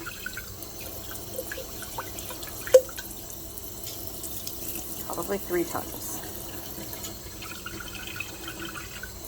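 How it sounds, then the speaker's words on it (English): Water sloshes and drips in a jar as sprouting seeds are rinsed in a quiet kitchen, faint splashes and a few distinct drops heard at close range while a person speaks briefly. "we're going to put some water in here, and we're going to swirl it around just like that, and we're going to rinse it out"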